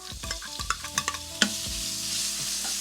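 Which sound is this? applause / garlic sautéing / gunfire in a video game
garlic sautéing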